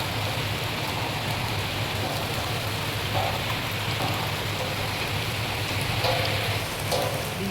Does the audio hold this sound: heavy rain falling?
yes